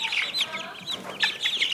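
Chickens clucking close by, several birds with choppy overlapping clucks and short squawks in uneven bursts.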